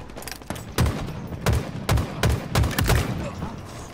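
Bursts of gunfire from the hip in the video game Halo Infinite during a Big Team Battle capture-the-flag match, about eight sharp, punchy shots in an uneven rhythm, loud and close, with faint background game noise between them.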